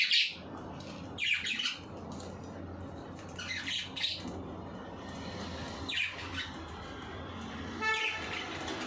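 A pet bird squawks in several short, shrill bursts spaced across a few seconds, fairly close, over a steady low household hum.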